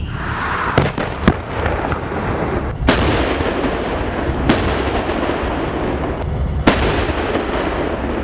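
K9 Vajra self-propelled artillery guns firing on the Mahajan field firing range in the Rajasthan desert, with several sharp booming blasts at irregular intervals, each trailing off into a rumbling echo, loud and fairly close.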